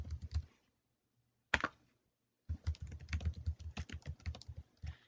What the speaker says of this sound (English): And then type in a password,